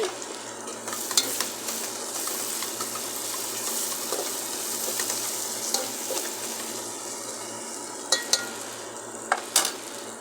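Ingredients for a chickpea kuzhambu sauté in a pan with a steady, hissing sizzle, and a few sharp clinks from a stirring utensil come through, mostly toward the end.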